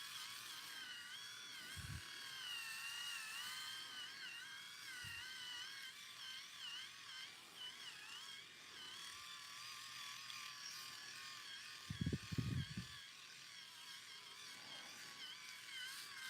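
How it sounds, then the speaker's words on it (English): A Max Groom electric head shaver runs at 7,000 RPM against a scalp, giving a steady high buzzing whir throughout, with a few brief low thumps as it is moved. "Amazing head shaver right here."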